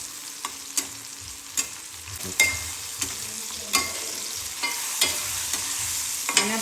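Ingredients for poha fry in hot oil with a continuous crackling sizzle, while a spatula scrapes and knocks against the pan in repeated sharp strokes, each one close and distinct.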